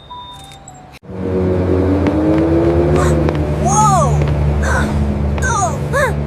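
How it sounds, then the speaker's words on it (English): A city bus pulls away from a stop, its engine rumble swelling loud and steady with rising high squeals; a voice exclaims once. "The bus is moving."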